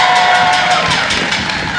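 Crowd cheering and clapping on the White House lawn at an evening event welcoming new interns, a loud, steady wash of whoops and applause that fills the whole stretch without letup.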